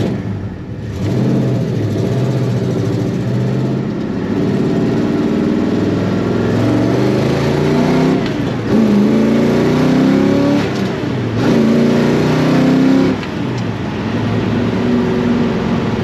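A loud V8 engine of a 1968 Pontiac GTO convertible revs and pulls hard, its deep roar climbing in pitch through repeated accelerations and gear changes, up close and alone.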